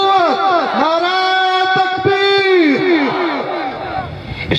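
A crowd at a religious gathering chants slogans in unison, loud massed voices shouting in repeated rhythmic call-and-response bursts that swell and fall together.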